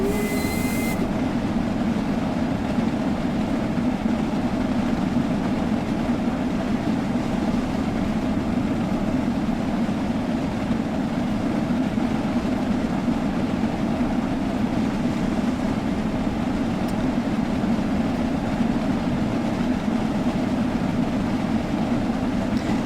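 A steam train running along a railway, heard as a loud, steady rolling rumble with a faint high squeal at the start, continuous and unbroken with no speech over it.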